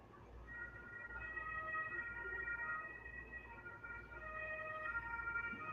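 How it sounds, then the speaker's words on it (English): An ambulance siren wails steadily in the distance outdoors during a Wimbledon tennis match in London, a faint continuous rising and falling tone over low background rumble. "The ambulance."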